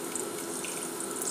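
Water poured into a pan of chicken adobo makes a steady, close, hissing splash that keeps going without a break.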